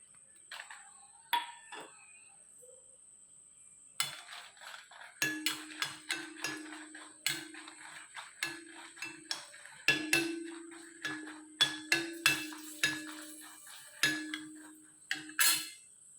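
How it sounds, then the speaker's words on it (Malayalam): Red chillies fry in oil in a pan for a coconut chutney as a spatula taps and clinks against the metal in uneven bursts over a faint steady hiss, close by with no voices. "ആദ്യം ഞാൻ മുളകാണ് വറുക്കാൻ പോകാം"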